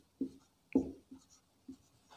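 A pen writing on paper while a Class 10 geometry proof of the Pythagoras theorem is worked out, giving a few soft, quiet scratching strokes in short separate bursts with pauses between them.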